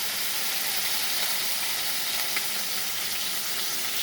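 Steady, close sizzling and crackling of bata fish frying in hot oil, a continuous hiss with occasional small pops and no talking.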